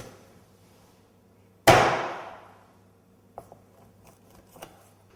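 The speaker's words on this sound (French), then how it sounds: "Trancher la tête d'un coup sec avec la partie la plus dure du couteau" A knife blade strikes a cutting board once, sharply and loudly, chopping off a poultry head with the hard heel of the blade; the impact rings out and decays, followed by a few faint knocks.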